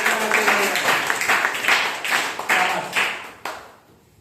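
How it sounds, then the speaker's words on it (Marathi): Loud, close applause for two schoolgirl contestants at a Marathi school quiz show, dense clapping filling most of the moment before tapering off at the end. "दोघींसाठी जोरदार टाळ्या."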